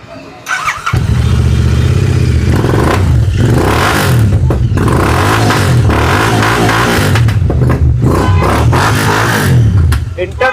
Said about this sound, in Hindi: इंटरसेप्टर 650 का साउंड आपने सुना